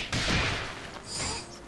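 A bomb explodes in the fighting game Skullgirls with a sudden loud boom and crackling burst that decays, then a second swelling blast follows, both close and forceful.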